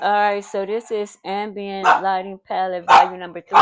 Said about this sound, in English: Somebody was at my door and my dogs went crazy.